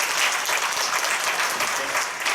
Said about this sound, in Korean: 네, 박수 한번 보내주시기 바랍니다.